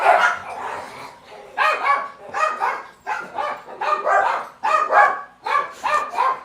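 Dogs at home bark at the neighbors in a rapid series of loud, close barks. The barks come in regular bursts about every second.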